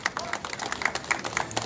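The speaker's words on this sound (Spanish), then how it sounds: "fuertes los aplausos" Crowd clapping for runners at a children's and adults' marathon in Chancay, Peru, a steady patter of many hands with voices mixed in, moderately close.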